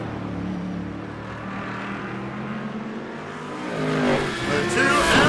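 Audi GT3 race cars battle through the final lap of a street-circuit race at St. Petersburg, engines droning steadily and swelling louder as they close in near the end, under a commentator's voice.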